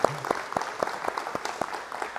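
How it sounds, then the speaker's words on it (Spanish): A church retreat group at St. Philip Benizi gives a family a round of applause, steady dense clapping with a few sharp, distinct claps standing out near the listener. "Un aplauso por ellos."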